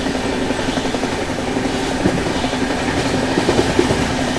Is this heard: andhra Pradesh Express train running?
yes